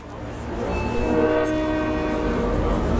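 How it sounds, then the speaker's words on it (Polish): A train passes through a station in the video game Hitman: Absolution, giving a loud, steady rumble with rattling wheels and a sustained horn-like tone, with no speech. "Proszę nie podchodzić do przejeżdżających pociągów."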